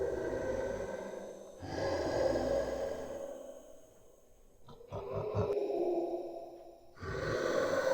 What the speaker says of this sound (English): What we're hearing now is already how it sounds just by taking the straight up breathing sounds that I made